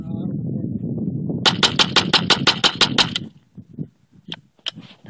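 A Remington Nylon 66 rifle fires about ten rapid .22 shots in an even, quick string of sharp cracks close by, followed by a few scattered clicks and knocks.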